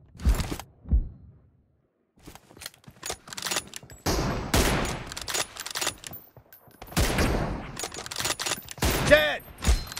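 Gunfire from an M24 bolt-action sniper rifle in a one-on-one team deathmatch of PUBG Mobile, heard as several sharp, separate shots spread across the clip with game effects between them.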